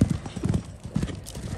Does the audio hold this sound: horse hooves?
yes